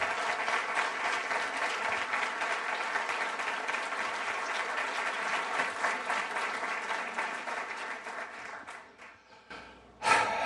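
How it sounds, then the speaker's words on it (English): Sustained applause from a large lecture audience welcoming the President of Estonia, steady and loud for several seconds before tapering off, with a brief thump at the end. "Please join me in a round of applause"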